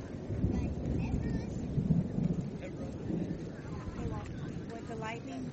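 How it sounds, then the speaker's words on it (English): Thunder during a storm, a deep rolling rumble that swells and lingers while people talk over it. "Thunder. Coming closer."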